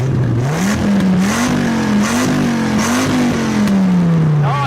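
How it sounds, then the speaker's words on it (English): First-generation Dodge Viper engine revving up and down through several rising and falling pulls, loud and close throughout with no talking. "Let's see which generation of Dodge Viper sounds the best. I'm going to start with a Gen 1, so rev it up."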